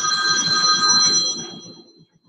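A phone rings close by, a bright electronic trill with a warbling pattern that holds for about a second and a half before cutting off and fading, with no talking over it.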